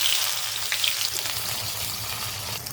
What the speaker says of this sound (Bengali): পেঁয়াজে একটু লবণ দিয়ে আর একটু ভাজা ভাজা করে নেব।